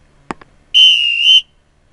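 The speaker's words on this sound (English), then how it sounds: "That's why we have the whistle." A single steady whistle blast rings out in a classroom during a geometry lesson. It is loud and clear and lasts just over half a second, after a brief knock.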